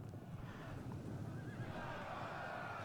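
Cavalry horses neigh and whinny during a charge in the game Total War Attila, with hooves clattering under a steady battle din at low volume.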